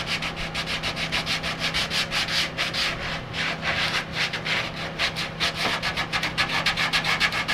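Wood being shaved by hand in the old way, a steady run of quick rasping strokes repeating close up and fairly loud, with a low background hum and no talk.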